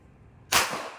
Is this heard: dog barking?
no